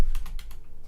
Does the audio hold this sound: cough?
no